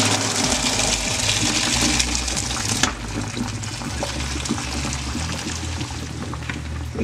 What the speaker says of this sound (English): when I pour the water in there